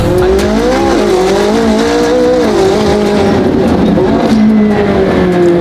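A Lamborghini SVJ with a Gintani F1 exhaust drives hard, its loud, close engine note rising and falling through the gears in a continuous howl, with no talk over it.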